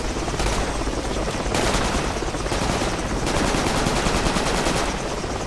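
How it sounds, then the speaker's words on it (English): Sustained automatic enemy gunfire in the military shooter game Project Reality, dense and continuous bursts of rapid shots filling the whole stretch at steady loudness, with no voices over it. "No, it was enemy fire from the west."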